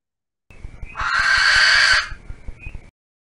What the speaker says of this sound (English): let's hear the barn owl.